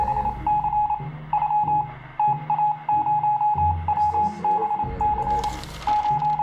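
Radio transmission in the video game 60 Seconds: rhythmic bursts of a clear electronic beep tone, like Morse code, repeating over a low buzzing game soundtrack, loud and close.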